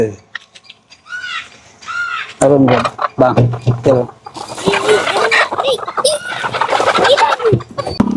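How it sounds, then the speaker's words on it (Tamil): Several chickens cluck and squawk nearby while someone talks over them, the bird calls rising and falling throughout. "இதில் கோழி உள்ளுக்குள்ள வந்து பதிமூன்று கோழி இருக்குது"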